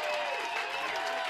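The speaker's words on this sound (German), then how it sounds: "Dein Applaus." Audience applause at a spring festival stage show, a steady, dense wash of clapping from a crowd that holds evenly for a brief moment without pause.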